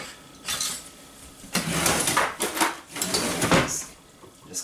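A whisk clatters against a bowl while mixing an orange juice topping, with bursts of rapid metallic scraping and knocking, fairly close and loud, pausing between strokes.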